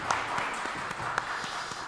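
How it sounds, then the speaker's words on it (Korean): At a Sunday worship service in a Korean church in Ulsan, a congregation claps in scattered, moderate applause, with the claps close together and continuing steadily. "하나님께 영광의 박수 올려드리겠습니다"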